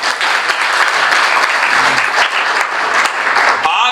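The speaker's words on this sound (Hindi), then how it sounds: "अपने लिए ताली बजाओ।" An audience at a Haryana Kangen water motivational talk applauds steadily for four seconds, a dense, loud wash of clapping with no break.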